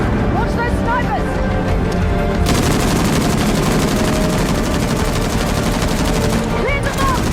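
Dense, continuous gunfire from a firefight with snipers in the game Uncharted: The Lost Legacy. Loud overlapping shots and bursts run through the whole stretch, with voices faintly mixed in.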